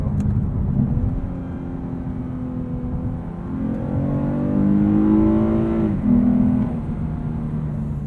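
A 2022 Lexus RC 350 F Sport AWD engine in manual mode, paddle-shifted from the cabin: a low, droning hum that rises in pitch as it revs, dips at the shift, then climbs again.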